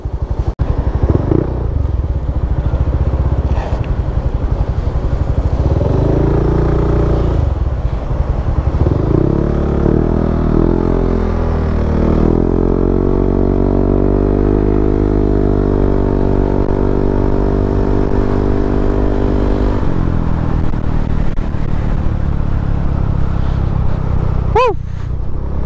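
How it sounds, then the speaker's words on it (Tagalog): Scooter motorcycle fitted with new MTRT racing flyball CVT rollers being ridden on a road, engine droning steadily with rising and falling revs as it accelerates, loud and continuous throughout with wind noise. "Tinatry na natin itong motorsiklo natin na may bagong flyball."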